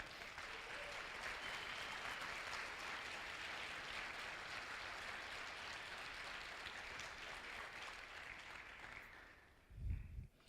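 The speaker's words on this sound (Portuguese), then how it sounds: "aplauda o Senhor com força." A church congregation applauds steadily and loudly for about nine seconds, a dense sustained wash of clapping that tapers off, followed by a brief low thump near the end.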